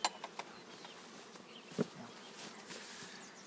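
Honey bees hum around an apiary hive during spring colony expansion, a faint, steady buzzing across the whole stretch with a few soft knocks and one brief louder tap near the middle.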